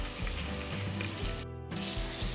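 Butter with a thread of olive oil melts and sizzles steadily in a hot pan, a close, quiet, continuous frying crackle with a brief dip near the end and no talk.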